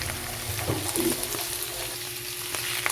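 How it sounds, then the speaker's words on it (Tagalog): Chicken frying in a pan with mushrooms gives a soft, steady sizzle, and a few stirring scrapes and knocks sound close by. "pwede na po nating ilagay ang ating chicken. Ayan. So, ihalo lang natin."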